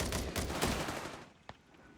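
Machine gun fire in Company of Heroes 3, rapid rattling bursts that are loud at first, then die away into scattered single shots and one sharp crack near the end.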